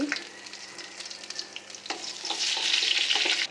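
Chopped garlic sizzling in hot oil in a pan for a jute greens stir-fry, a steady close frying hiss that swells louder toward the end, with a few light stirring scrapes and no talking.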